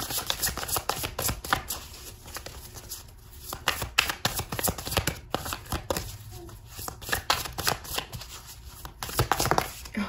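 Quantum Oracle cards being shuffled by hand in a quiet room, a steady run of riffling and sliding card sounds with crisp slaps, close and moderately loud, no talk.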